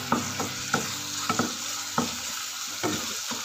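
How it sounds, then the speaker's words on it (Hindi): Eggplant bharta mash sautéing with ginger garlic paste in a hot pan, stirred with a spoon in irregular scraping strokes over a steady, close sizzle, no voices. "ये भी हम इसमें ऐड करके अच्छे से मिक्स कर देंगे"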